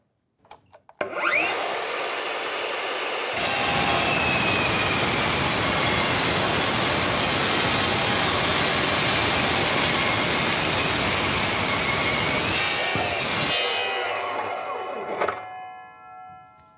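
A Bosch GCD 18V-355 cordless metal cut-off saw slices through 40x40 steel box section at a 45-degree miter, spinning up to a loud, steady high-pitched grinding whine for about ten seconds, then winding down.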